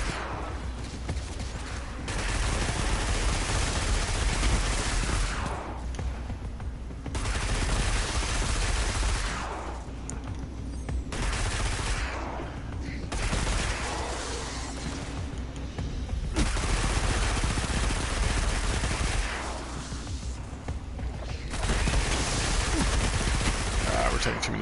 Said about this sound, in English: We're taking too many shots there.